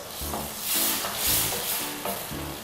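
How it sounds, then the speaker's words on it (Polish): Tomato sauce for spaghetti puttanesca is stirred in a pan, with soft repeated scraping strokes over a steady sizzle, close and moderately loud, and no one talking. "wszystko ze sobą e, dobrze mieszamy"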